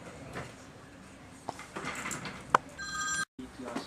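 A telephone rings briefly near the end, a short electronic trill over background room noise and low voices in an apartment.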